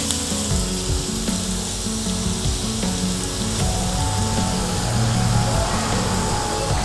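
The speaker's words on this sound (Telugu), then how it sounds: "ఇలా 1 నిమిషం పాటు ఇలా క్యారెట్ వేయాలి నూనెలోనే" Carrots frying in oil over a low flame, producing a steady, loud, close sizzle with occasional faint stirring clinks and a low hum beneath it.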